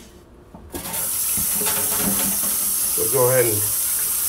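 Tap water runs steadily into a kitchen sink as a scrub pad is rinsed after scouring a pan of burnt-on pasta sauce, a constant close hiss with brief splashes while a person speaks over it.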